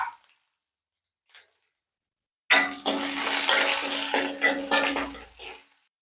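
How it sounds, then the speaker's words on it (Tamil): Onion, curry leaves and coriander sautéing in a pan, near silence at first, then a sudden loud sizzle with clinking, scraping stir strokes for the last few seconds. "வெங்காயம், கருவேப்பிலை, கொத்தமல்லி எல்லாம் நல்லா வதங்கட்டும்."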